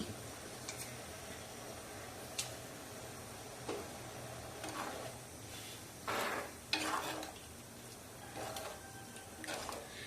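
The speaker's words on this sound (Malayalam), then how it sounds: "നന്നായിട്ട് മീൻ കറി തിളച്ച് വന്നിട്ടുണ്ട്" A pot of fish curry made with anchovies and turmeric bubbles on the stove in a quiet kitchen, giving a soft, steady simmer with a few light clinks and brief scraping bursts scattered through it.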